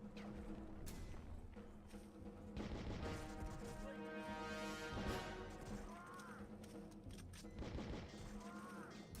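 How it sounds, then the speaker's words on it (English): A flashbang grenade bursts in the video game Outcast, a loud crashing blast amid dense, continuous game noise, gunfire-like impacts and a musical score, with several heavy thuds spread across the scene. "Oh, it's a flashbang."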